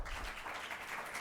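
Audience applause at a League of Women Voters election debate, a brief, fairly faint burst of scattered clapping from a room of people, heard alone.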